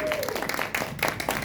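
Audience applause at a queer film summit during an LGBTQ film festival, a brief spell of dense, close clapping with some voices mixed in.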